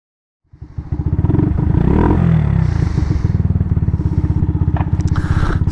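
Motorcycle engine on a country lane ride, running lumpy and rough with a fuel-rich smell, loud and close with a chugging, uneven idle that rises briefly, then settles into irregular pulsing.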